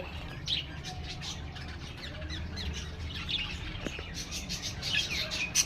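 Birds chirp and squawk outdoors among flowering plants, a steady scatter of small calls at moderate distance over a low background rumble.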